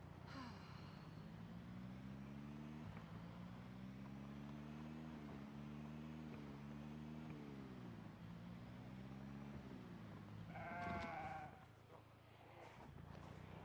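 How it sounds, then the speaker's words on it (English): Sheep bleating in the video game Project Zomboid, a long drawn-out bleat running steadily for about ten seconds, then a brief higher sound and quieter background noise. "I heard a sheep."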